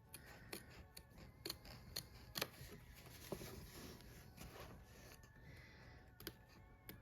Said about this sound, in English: Oh, cut some of my stitches there